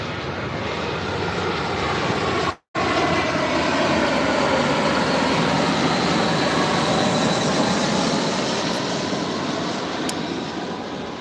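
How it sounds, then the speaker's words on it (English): Jet airplane passing overhead near a large boat, a loud steady roar sustained throughout with a brief cut-out early on, no talking. "I'll let this plane pass by."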